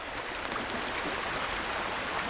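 A creek flows steadily nearby, a continuous broadband rush of water without pauses or distinct splashes.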